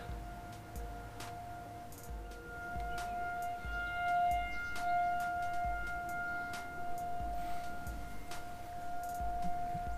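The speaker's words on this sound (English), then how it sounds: "Perfect time to be testing tornado sirens" A distant tornado siren test drones on with a steady wavering tone, while faint clicking and thumping sounds occur nearby.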